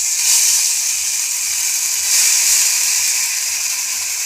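A spiced filling, cooked with asafoetida, is poured into a hot kadai over lowered heat and sends up a steady, loud sizzle and hiss that rises and falls slightly.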